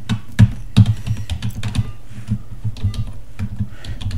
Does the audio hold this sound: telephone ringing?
no